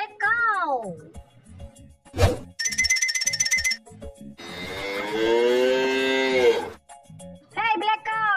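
Cartoon cow mooing among animated characters by a waterfall, a drawn-out moo sounding clearly near, with child-like voices talking before and after and a bright bell-like jingle earlier.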